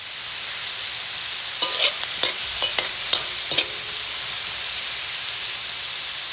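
Garlic, onions, tomatoes and shrimp sauté in a pan with a steady, close sizzle, broken by a handful of sharp spatula scrapes and clinks in the middle stretch.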